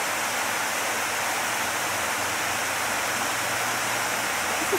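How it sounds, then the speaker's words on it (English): A rushing waterfall outdoors, partly frozen, gives a steady, broad wash of water noise that stays even and close throughout, with no voices over it. "So, we hear a waterfall."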